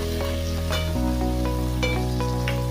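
Fresh fenugreek leaves stirring and frying in a hot pan: a steady, close sizzle with soft scraping stir sounds and occasional clinks, no voices.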